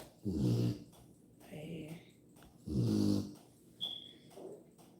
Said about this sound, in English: Oh Lord, she's snoring.